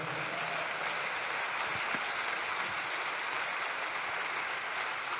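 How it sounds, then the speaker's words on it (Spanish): A church congregation breaks into sustained applause, a fairly faint but even wash of many hands clapping with no clear pauses. "Aplauda la grandeza de Dios."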